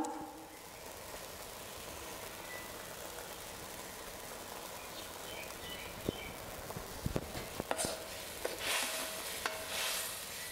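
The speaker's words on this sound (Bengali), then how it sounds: "মশলার মধ্যে দিয়ে কষিয়ে নিব।" Prawns fry and get stirred in spices in a pot on a clay stove, giving a steady low sizzle with occasional sharp scrapes and clacks of the spoon near the end.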